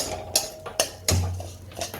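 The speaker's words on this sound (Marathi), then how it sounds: "चला इकडे तांदूळ घालते बघा थोडे." Rice tipped into a pan of hot ghee on a home stove, giving a few sharp metallic clinks and scrapes against the pan followed by a brief low sizzle, close and fairly loud with no talking.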